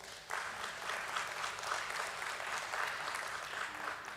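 A steady wash of audience applause at a stock exchange listing ceremony for INOX India Limited at BSE, starting just after a brief pause and continuing evenly, moderately distant and fairly quiet.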